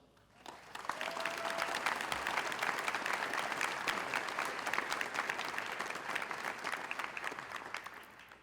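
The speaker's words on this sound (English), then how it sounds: "I want you all to give them a round of applause because they have worked so hard and they deserve it so much" Audience applause at a high school IB graduation pinning ceremony, rising quickly to a sustained, even roar of clapping heard from some distance in a large hall.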